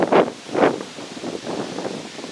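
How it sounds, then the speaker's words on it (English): Gusty wind buffets the microphone outdoors in low, rumbling bursts, two strong gusts followed by steadier, weaker blowing. "Boy, it's pretty windy."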